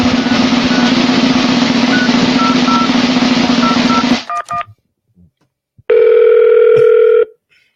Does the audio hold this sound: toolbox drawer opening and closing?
no